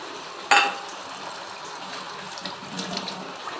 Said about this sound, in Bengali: আর একটু জল আমি দিয়ে দিলাম।